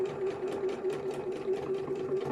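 A sewing machine runs steadily at moderate speed, top stitching Gelli print fabric, with a constant hum and fast rhythmic needle ticks repeating evenly, close up and alone.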